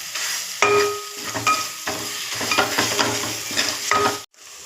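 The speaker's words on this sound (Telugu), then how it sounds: "కొంచెం గోల్డెన్ బ్రౌన్ అయ్యాక ఉల్లిపాయ పేస్ట్, అల్లం పచ్చివాసన పోయే వరకు వేయించుకోవాలి." Onion paste and ginger fry in a pan, a close, loud sizzle broken by regular scraping stirs, before a short cut near the end.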